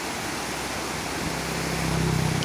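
Broadband rushing river water at the Cisadap twin rivers in Puncak Asih, Ciamis, a steady wash of flowing stream noise, close and continuous, with no voices.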